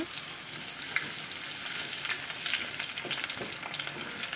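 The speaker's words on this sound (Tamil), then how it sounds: "சின்ன வெங்காயம் ஐம்பது கிராம் எடுத்து பொடிசா கட் பண்ணி போட்டிருக்கேன் இதை நல்லா பொன்னிறமாக வதக்குங்க" Finely chopped small onions (shallots) sauté in oil with a soft, steady sizzle. Light stirring clinks and scrapes come through at close range, with no talking.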